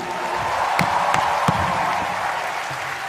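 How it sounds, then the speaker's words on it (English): Applause from a comedy roast audience, a continuous crowd clapping with a few louder individual claps and faint cheering mixed in, filling the space evenly for a few seconds. "please give a huge fucking round of applause for Ranveer Singh and Arjun Kapoor."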